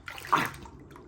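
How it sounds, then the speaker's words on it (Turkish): Two litres of milk poured into a pot: a short, close splashing gush that swells and then trails off into a quieter trickle, heard alone without talk. "Evet 2 litre sütü şimdi ilave ettim."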